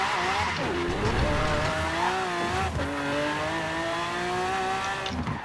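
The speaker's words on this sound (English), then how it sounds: "So that skid mark there is all from the front brakes locking." Front brakes lock on a 1969 Pontiac GTO Judge in Forza Horizon 4, giving a loud, sustained tire squeal that slides in pitch over the engine note for several seconds.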